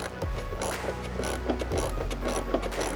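A plug on a Range Rover power steering reservoir is tightened with a ratchet, giving a steady run of close, rapid mechanical clicks and grinding over about three seconds.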